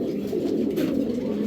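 A female racing pigeon gives a low, continuous cooing murmur, close by and fairly steady throughout the short stretch.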